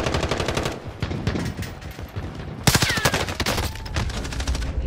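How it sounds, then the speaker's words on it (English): Rapid automatic gunfire from Call of Duty: Modern Warfare plays in dense bursts, loud and near, with a brief pause before another heavy volley, and no talk over it. "I'm taking fire."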